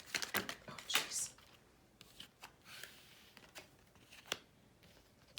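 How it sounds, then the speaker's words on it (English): Oracle cards from the Lover's Oracle deck are shuffled by hand, a string of close crisp riffles and slaps, a few cards spilling onto the table, with quieter shuffling between bursts. "That was a lot of cards that popped out"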